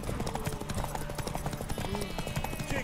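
Horse hooves pound in a rapid galloping rhythm during a race in The Witcher 3, steady and fairly close under spoken dialogue, with a brief whinny.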